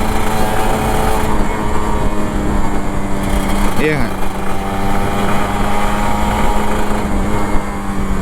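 A Kawasaki Ninja RR 150 motorcycle hums steadily on a morning commute, its engine note held under close conversation, with a brief rising rev near the middle.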